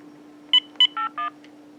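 Four touch-tone keypresses are dialed on a Uniden EXS2080 900MHz cordless phone, two quick matching tones then two lower ones, crisp and close over a steady low line hum.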